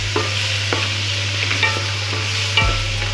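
Chopped tomato, green chili and spice masala are stirred in a hot pan, with a continuous soft sizzle, a few scraping strokes and a low steady hum beneath.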